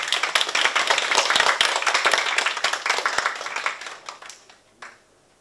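Welcoming applause for a newly appointed political science professor at an academic colloquium: a room of hands clapping steadily and fairly close, thinning out into a few scattered claps before stopping.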